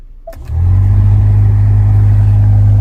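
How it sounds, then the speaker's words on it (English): A failing AC blower in a Lincoln car kicks on after a brief click, swelling into a loud, steady low droning hum that holds unchanged with no talking. "He said that sounds like the AC blower is going out."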